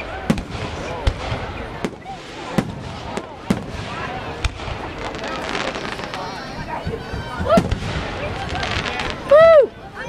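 Fireworks bursting outdoors, a string of sharp cracks and booms spaced irregularly, some loud and close, with voices talking and cheering between them and a whistling rocket near the end.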